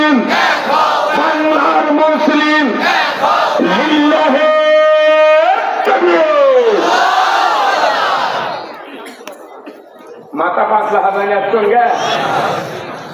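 A large crowd at a Bangladeshi religious gathering roars a takbir response in unison, loud sustained chanting that swells in repeated waves, drops briefly, then surges again.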